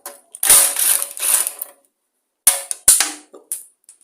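Bolts being worked loose on an old lawn mower engine's starter, a run of quick metallic ratchet clicks in bursts with pauses, close and fairly loud, no talk.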